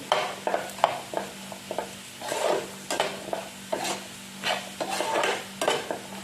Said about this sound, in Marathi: छान असं हलवून घ्यायचं परतून घ्यायचं एकत्र मिक्स करून घेते